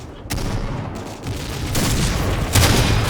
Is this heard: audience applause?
no